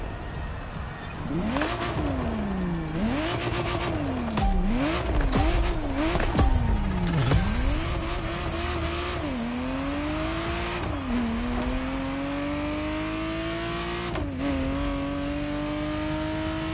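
Ferrari Testarossa engine in The Crew Motorfest video game, set in Hawaii, revving hard through repeated gear changes with sweeping pitch climbs, then settling into longer pulls at higher gears, loud and steady with no voices.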